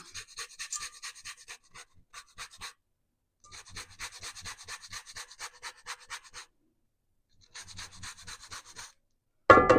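Lemon being zested on a rasp grater over a bowl of sauerkraut and garlic scape butter, close and fairly quiet, rapid scratchy strokes in three bursts separated by short pauses, ending with a louder clunk.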